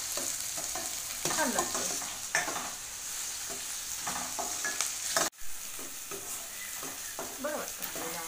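Food roasting in a pan under steady stirring: a continuous soft sizzle with repeated scraping strokes and one brief knock partway through, and a voice speaks briefly.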